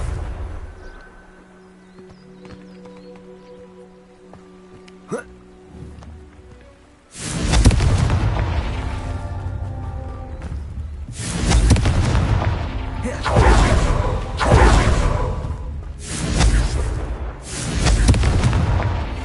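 Several loud, booming explosions from the Confringo fire spell in the Hogwarts Legacy video game, a burst of blasts following a quieter stretch of castle ambience with faint game sounds.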